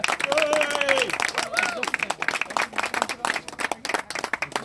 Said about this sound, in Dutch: Hebben we een applaus, dames en heren.